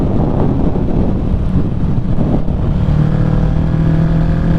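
Heavy wind roar while riding a Kawasaki Ninja 650 motorcycle, a constant loud rush with the engine droning underneath and a steady tone emerging toward the end.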